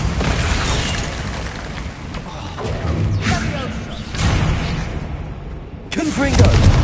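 A Bombarda spell explodes during Hogwarts Legacy combat, with heavy booming thuds and blasts repeating amid constant battle noise and shouted spell names.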